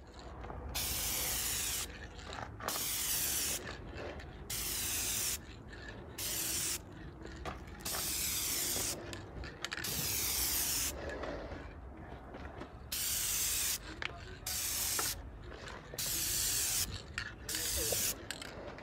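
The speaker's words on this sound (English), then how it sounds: "We just about finished spraying that up" Repeated bursts of hissing from an aerosol spray can applying rust encapsulator paint to a Mercedes R107 window regulator, each lasting a second or two with short pauses between, fairly close and steady.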